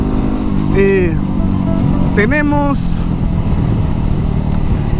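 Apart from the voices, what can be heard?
Yamaha WR 250X motorcycle engine while being ridden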